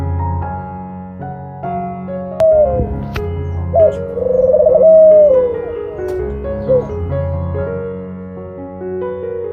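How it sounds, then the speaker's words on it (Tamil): A pigeon coos in a soft, rolling call over steady background music, with a few brief low notes rising to a fuller cooing phrase midway. "புறா"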